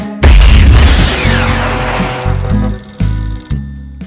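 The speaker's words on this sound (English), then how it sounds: "the phone keeps ringing" A loud old-fashioned telephone bell rings in repeated bursts, close and insistent, each ring decaying before the next one starts.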